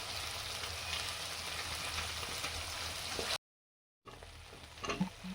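Spices with Kashmiri chili powder frying in hot oil for a Bengali tangra fish curry, a steady loud sizzle with stirring, cut off by a brief silence before the frying resumes.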